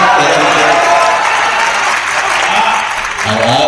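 Audience applause at the Kannauj Mahotsav poetry recital, a steady wash of many hands clapping that fills the whole stretch, loud and close, with a voice speaking faintly near the end.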